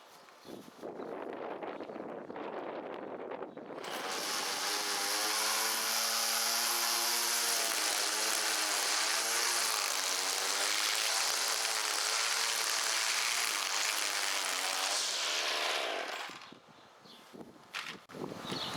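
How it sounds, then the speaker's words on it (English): A Bolens BL110 string trimmer's small gas engine catches after a few pulls and handling sounds, then revs loudly and steadily for about twelve seconds, rising and falling in pitch before dropping back to idle, close to the microphone. "And now start it up and see if you're in business again as far as trimming goes."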